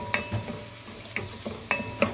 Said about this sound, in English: Let the simmer the onions until it becomes slightly golden.